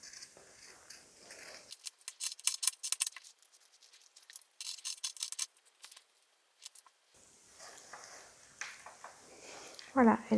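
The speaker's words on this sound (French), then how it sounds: "Donc je mets des petits coups de ciseaux" Scissors make quick, crisp snips as notches are cut into coated cotton fabric, a series of short bursts separated by quiet gaps, fairly close.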